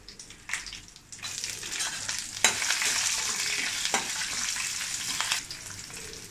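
Two green chillies hit hot oil in a pan over a medium flame, a bright crackling sizzle with sharp bursts and stirring scrapes, continuous throughout.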